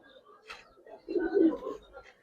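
Giribaz pigeons, red-pied with silver markings, give a low, throaty coo, with a brief faint call before it and a person talking quietly nearby.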